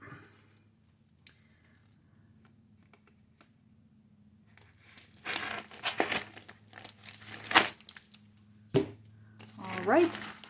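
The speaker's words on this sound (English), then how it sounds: "that one I'm going to need to cut" A plastic-wrapped package from a book club subscription box being cut and torn open, first near quiet, then bursts of loud crinkling and ripping plastic in several sharp clusters close by.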